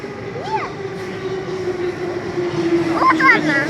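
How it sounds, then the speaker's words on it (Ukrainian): An electric commuter train rumbles steadily closer in a station with a low drone and faint squeals, while voices chatter nearby over the approaching rail noise. "Електричка."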